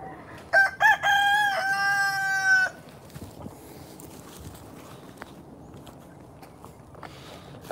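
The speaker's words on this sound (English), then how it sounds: "It's a chicken farm now." Rooster crowing among chickens on a chicken farm: one loud, close crow with drawn-out harmonic notes, followed by quieter scratching, footsteps and faint clucks.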